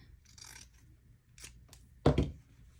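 Scissors trimming down a sewn 5/8-inch seam allowance on a pair of shorts, with a few soft quiet snips followed by one louder, sharper cut close by, and no talking.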